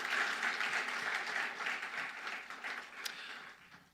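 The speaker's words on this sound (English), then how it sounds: "Shall we do one more big round of applause in appreciation?" An audience at a distinguished alumni lecture gives a warm round of applause, dense many-handed clapping that starts strong and slowly thins toward the end, heard alone with no talking.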